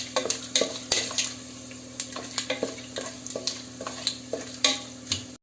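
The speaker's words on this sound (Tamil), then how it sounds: "ஒரு கிண்டு கட்டி விட்டுக்கலாம்." Chicken biryani masala fries in a pot over low heat with fennel seeds, stirred with a metal spoon that clinks and scrapes against the pot in uneven strokes over a steady close sizzle.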